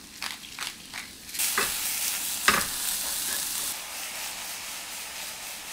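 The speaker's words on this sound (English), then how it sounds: "let's do enoki mushroom, and I'm gonna cook these together" Enoki mushrooms sizzle softly in a pan while being stirred, with scraping and rubbing strokes, a few light knocks and one sharper clack, over a steady quiet frying hiss; close, with no talking.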